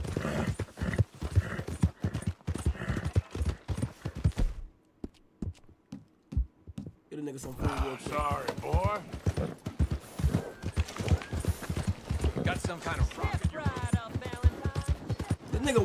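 Horse hooves clip-clop in a quick, steady rhythm in the video game Red Dead Redemption 2, loud and close, under frequent talking and game sounds.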